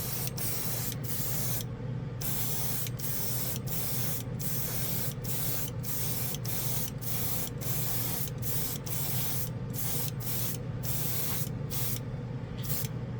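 An airbrush blows drying air onto a freshly painted plastic model in short repeated bursts of hiss, each a second or so long and separated by brief gaps, close and fairly soft, with no talking.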